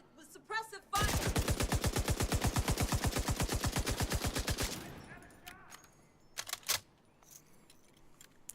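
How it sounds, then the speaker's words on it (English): Suppressive automatic gunfire in a VR shooter game: a loud, rapid, evenly spaced burst of shots hammers on for nearly four seconds, then stops, leaving a few sharp, isolated cracks and clatters afterward. "Hostile control point identified. Being targeted with suppressive fire!"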